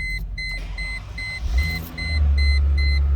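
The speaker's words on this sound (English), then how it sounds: "let's go ahead, fire this up. So you can hear it run." A 2008 Chrysler Crossfire Limited roadster starts and settles into a steady idle. The low engine rumble is close, and a repeating electronic warning chime beeps over it.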